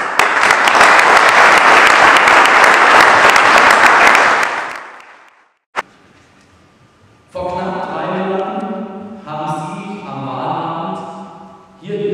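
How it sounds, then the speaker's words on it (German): Loud, dense applause at the swearing-in of a new mayor in Hilzingen, sustained for several seconds before dying away, followed after a pause by someone speaking. "das ist auch ein Applaus wert"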